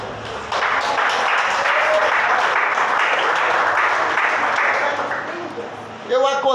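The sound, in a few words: church congregation clapping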